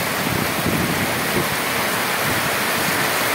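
Steady, dense rain pours down just outside a pigeon house, a continuous close wash of patter and hiss with no pauses or voices.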